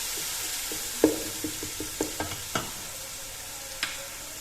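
Ginger, garlic and green chili paste frying in a pan, with a spoon scraping and stirring in a series of short, distinct clacks over a soft steady sizzle, close up and with no talking.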